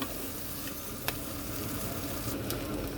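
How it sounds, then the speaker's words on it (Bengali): Potato and soybean curry fries in a covered pan with a steady, even sizzle throughout, close and moderate, with a brief sharper crackle or two and no talking. "এটাকে আমি এখন ঢেকে ঢেকে মিনিমাম পাঁচ থেকে সাত মিনিট এটাকে ভাজা ভাজা করব"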